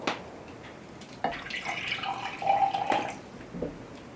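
Hot homemade beef tea, made to an 1807 recipe, pours into two cups in a few soft, close liquid trickles and drips, fairly quiet with brief pauses between pours and no talking.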